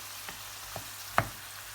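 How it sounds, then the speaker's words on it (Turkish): Minced meat, 200 grams, fries with mushrooms in a pan, giving a soft, low sizzle. Three brief spoon taps scrape against the pan as it is stirred, all quiet and without talk. "Şimdi içerisine 200 gram kıymamı ilave ediyorum. Karıştırarak kıymamın da kavrulmasını sağlıyorum."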